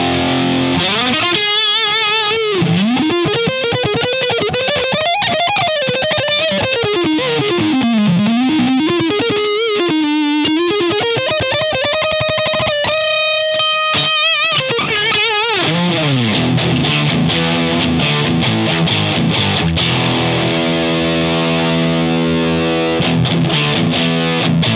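Electric guitar through a Boss DS-1 distortion pedal with the distortion knob turned all the way up, playing loud, saturated sustained lead lines and bends, then rhythmic chugging chords, with no voices.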